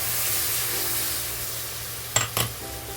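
Spiced masala in a pan sizzles with a steady, loud hiss as ground coconut paste goes in, followed by two short bursts of sharper crackle and scraping as it is stirred.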